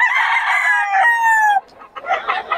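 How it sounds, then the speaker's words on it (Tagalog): A rooster crows loudly and close by at a market where chickens are sold, one long drawn-out call followed by shorter clucking and squawking from the fowl. "Mura-mura yung mga manok na yan."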